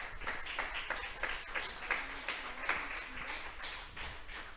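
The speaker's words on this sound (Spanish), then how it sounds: "Vamos a brindarle un fuerte aplauso a nuestro Dios" A church congregation breaks into applause, a moderate wash of clapping hands with distinct scattered claps throughout, heard at some distance in a reverberant hall.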